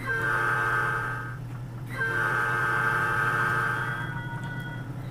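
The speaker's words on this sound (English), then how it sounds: "A horn show!" A Grand Trunk Western locomotive in Grey Ghost livery sounds its train horn close by in two long, loud blasts separated by a short gap, over the steady rumble of the train. No one talks.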